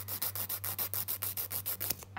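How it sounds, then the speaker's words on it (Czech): A nail file rasps back and forth over hardened polygel on a fingernail at home, about a dozen quick, evenly spaced close strokes with a steady low hum underneath. "jakmile je vytvrdíte, tak jsou doopravdy tvrdý jak beton. A hrozně blbě se brousí."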